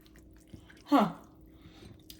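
Homemade cottage cheese of a loose consistency being chewed close up, one brief moist squishy burst lasting about a quarter second amid a quiet background.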